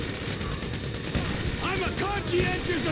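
Gunfire in the video game GTA V during an armed fight with armoured army troops, a dense clatter of shots and distant booms over a constant roar of noise, while someone talks over it.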